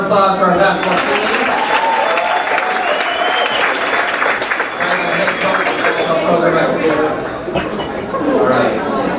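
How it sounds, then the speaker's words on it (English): Loud, sustained audience applause at a school sports banquet for the basketball team, with cheering and crowd chatter mixed in, fairly close. "another round of applause for our basketball team"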